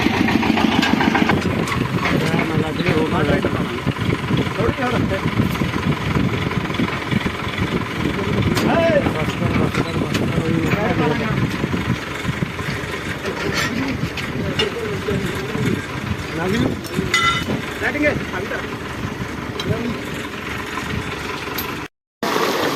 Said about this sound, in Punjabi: ਚਲਾਤੀ ਮੋਟਰ ਆਪਾਂ ਨੇ